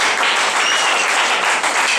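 A church congregation claps as an offering to God, dense steady applause filling the whole stretch, loud and close with no voices over it.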